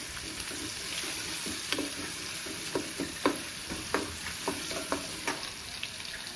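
Peanuts, chana dal and turmeric fry in hot oil for coconut rice, a steady close sizzle broken by repeated sharp scrapes and clacks of a spatula stirring the pan, no voices.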